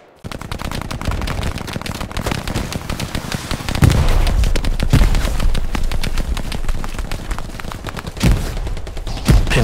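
Sustained bursts of machine gun fire in the Hell Let Loose shooter, rapid automatic rounds rattling almost continuously with heavier surges and a few louder close reports, no voices over it.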